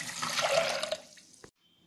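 Water pours in a steady, splashing stream for about a second and a half into a pressure cooker of white chickpeas, then cuts off, leaving near silence.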